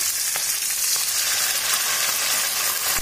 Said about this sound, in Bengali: এবার আমি তৈরি করে রাখা সসটা এর মধ্যে মিশিয়ে দিচ্ছি